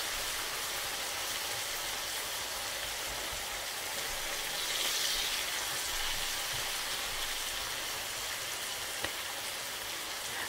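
Onions fry in hot rendered bacon fat for a warm potato salad, giving a dense, even sizzle like steady rain, continuous and fairly close with no voices.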